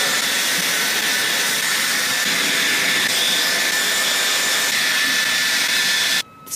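A Dyson hair dryer with an attachment rough-drying hair, a loud continuous close-up airy whoosh that holds steady and then cuts off abruptly near the end.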